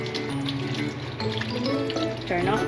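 Water runs steadily from a faucet while hands are rinsed under it at a sink, a continuous close splashing stream with a faint voice briefly underneath.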